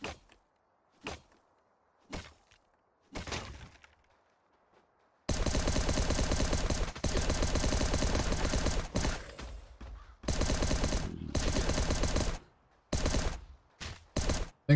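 Weapon fire in the survival game Last Day on Earth: a few isolated shots first, then long dense bursts of rapid automatic gunfire with brief gaps, loud and close, no talk.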